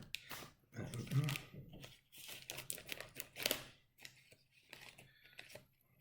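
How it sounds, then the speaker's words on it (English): Close, crisp snipping and crinkling of plastic packaging in short bursts, with scissors cutting and material rustling between pauses. "This is that boring footage of man cuts things with scissors."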